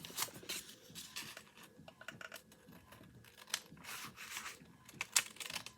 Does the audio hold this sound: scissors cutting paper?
yes